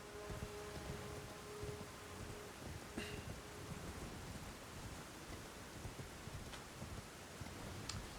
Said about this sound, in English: Oh, it's raining? That's weird.